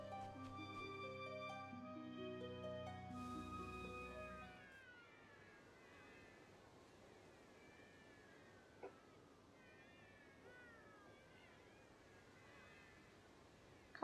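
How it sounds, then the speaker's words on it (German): Cats meowing in the video game Bravely Second, several soft overlapping meows continuing at low volume after a short stretch of game music fades out. "Katzen."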